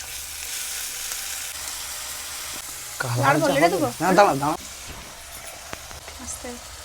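Ginger-garlic paste and spiced whipped yogurt masala fry in a pan for paneer, a low steady sizzle that runs throughout while a voice talks over the middle stretch.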